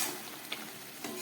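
Vegetable bean curry in a pan with a little ghee added, frying with a soft steady sizzle and a couple of faint stirring clicks, close and fairly quiet.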